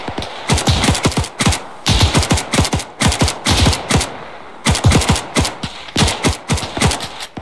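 Rapid bursts of automatic gunfire from WWII-era weapons during an Arma 3 Iron Front co-op battle at Baranow, loud and close, firing in repeated volleys separated by short pauses.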